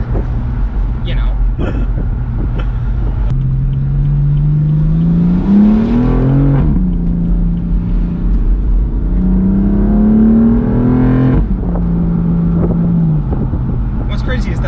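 BMW M4 sports car driving and accelerating from inside the cabin, a loud steady engine note climbing in pitch through two gear pulls with a shift between them, continuous over road noise.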